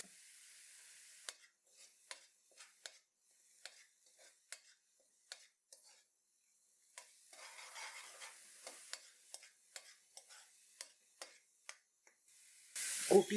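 Onions with ground cumin and coriander are stirred in a pan, giving quiet intermittent scrapes and taps of a spoon against the pan, sparse and close, with a brief louder burst at the end.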